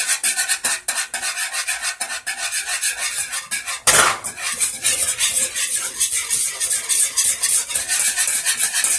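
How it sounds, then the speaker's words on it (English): A spoon scraping and stirring thickening fine polenta in a pot, continuous close rasping strokes with a louder knock against the pot partway through, no talking. "So you just keep on stirring it in."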